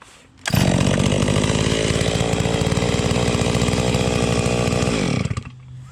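A Holzfforma G660 chainsaw bucks a log about two feet across, starting abruptly and roaring loud and steady for roughly five seconds of continuous cutting before cutting off, with no talk.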